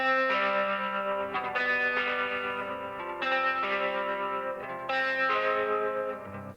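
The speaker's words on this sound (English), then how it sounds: "here is the arpeggiated guitar part." Baritone electric guitar picking out arpeggiated chords, bright and shimmering through chorus, echo and distortion effects, notes ringing and overlapping in a steady flowing pattern.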